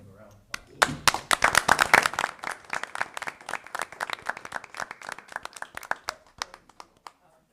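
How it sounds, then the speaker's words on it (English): Hands clapping at a city council meeting, a short round of applause from a small group, loud and close with distinct individual claps that thin out toward the end. "I'll give them a round of applause."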